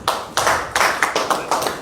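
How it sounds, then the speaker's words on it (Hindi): An audience claps in strong, rhythmic bursts to welcome Abdul Khalid into the BJP at a political gathering in the Kashmir valley, with sharp, closely spaced waves of clapping that surge and ease about four times a second. "जोरदार तालियों से अब्दुल खालिद साहब का भी हम पार्टी में वेलकम करते हैं"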